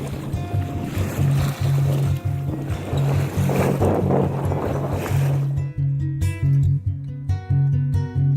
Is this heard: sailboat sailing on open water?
yes